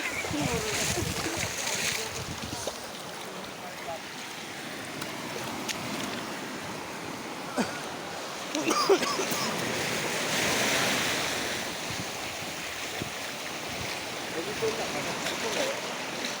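Sea waves roll and wash up on Kuakata beach in a constant broad surf roar, with wind buffeting the microphone and a few louder swells cresting midway.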